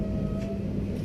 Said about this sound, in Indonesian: Sesaat lagi kereta Lodaya akan masuk dan berhenti di stasiun Cipendoy ya.